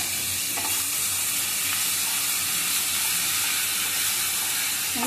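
Taakla wild greens sauté in a pan with a constant hissing sizzle close by, and a few faint scrapes of stirring now and then.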